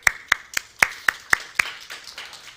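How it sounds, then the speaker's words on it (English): Audience of roughly forty people at a conference, clapping in a sparse, evenly spaced rhythm of sharp separate claps that fade into softer scattered claps at the end. "So there are about 40 people in the audience currently clapping"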